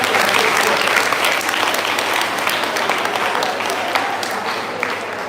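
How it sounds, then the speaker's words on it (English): Loud, sustained applause from an audience, many hands clapping together steadily and tapering off slightly near the end. "Give a clap."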